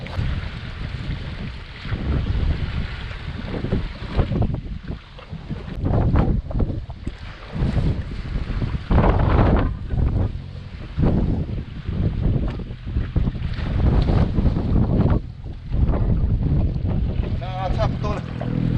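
A 150-horsepower outboard boat engine drones steadily at sea on a strong-wind day, with heavy wind buffeting the microphone and water noise around it. People talk intermittently over the engine.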